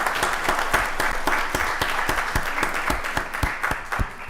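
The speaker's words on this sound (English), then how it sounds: "So let's give all of our nominees and our winner another round of applause." Round of applause from the audience at a county board of commissioners meeting, honoring award nominees and a winner; steady dense clapping with sharp individual claps standing out, sustained throughout without talk.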